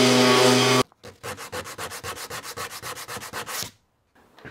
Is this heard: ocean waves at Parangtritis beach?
no